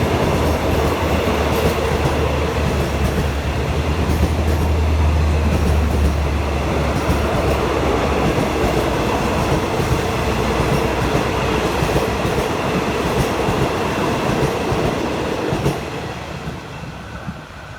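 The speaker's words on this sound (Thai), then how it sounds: "วันนี้ทำขบวนโดยที่ตาชิ 4504 นะครับ กำลังลอดสะพานยกระดับนะครับ" Hitachi diesel locomotive 4504 hauls rapid train 172 from Sungai Kolok toward Bangkok, passing under an overpass: a loud, sustained rumble with rhythmic clickety-clack of wagon wheels and a low engine drone, easing off near the end.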